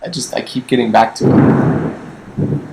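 Rumbling thunder from a quick southern thunderstorm rolls in near the recording, a long low broadband swell lasting over a second, with someone talking over and around it.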